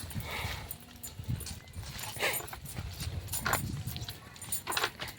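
Large cargo horses at a working stable, with irregular hoof clops and shuffling movement up close, a dog barking intermittently nearby over a busy outdoor background.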